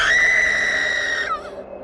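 A woman's shrill, sustained scream in a Hindi horror story, loud and piercing, holding steady before wavering and breaking off, alone without other voices.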